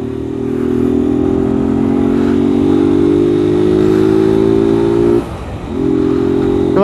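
A motorcycle engine whose valves need adjusting runs steadily and loudly up close on suburban streets, holding a rising drone, then briefly drops as the throttle eases before picking back up.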